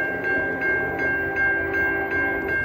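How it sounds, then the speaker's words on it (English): An autorack freight train passes a level crossing, its heavy rolling rumble loud and near, with a steady high crossing-bell tone ringing in regular pulses over the rail noise. "It's an autorack train."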